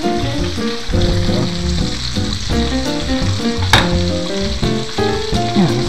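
Food frying hard in a pan while cooking salmon, a loud, dense, continuous sizzle with crackles and one sharp utensil clink, close up and without talk.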